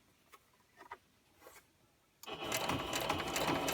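A sewing machine stitches a fabric panel for the inside of a journal cover. Light handling taps come first, then the motor starts partway through and runs as a loud, steady, close whir to the end.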